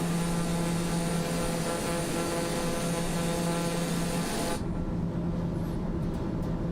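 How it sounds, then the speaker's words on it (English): Steady, loud drone of a TBM 930 turboprop engine in flight in a flight simulator game, continuous with a constant tone before the sound shifts and thins out near the end. "I love this plane, the TBM"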